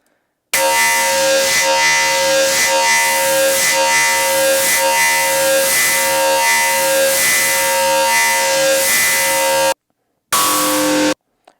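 A Future Retro Vectra synthesizer's noise source hisses loudly as a steady wash for several seconds, with a faint rhythmic pulsing, then cuts off and briefly returns.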